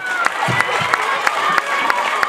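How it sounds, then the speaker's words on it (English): A crowd of schoolgirls and adults claps and cheers at a menstrual hygiene kit donation event, a dense, steady wash of applause with sharp louder claps standing out at regular points. "Please let's clap for him"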